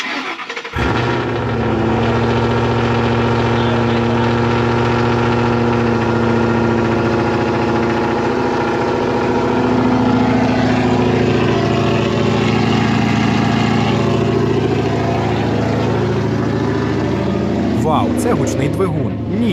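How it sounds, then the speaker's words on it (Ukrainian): A 420-horsepower manual Ford Mustang GT fires up and settles into a steady, rumbling idle through a loud exhaust, heard up close for the whole stretch while someone talks over it. "двигун тихий, а вихлоп гучний"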